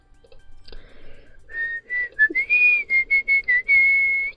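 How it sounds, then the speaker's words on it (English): A person whistles a run of clear tones straight into a microphone, starting with a few short notes and moving into longer, sustained pitches, close and fairly loud with no talking. "I just did whistling there"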